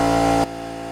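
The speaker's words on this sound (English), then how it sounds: "if you didn't hear me over the drone of the engine" Kioti CK25 compact tractor engine droning with a steady tonal hum that drops abruptly in level partway through, then carries on more quietly.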